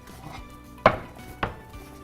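Food is chopped into small cubes with a knife, at close range. Two sharp knocks of the blade on a board stand out over a low background, with no talk.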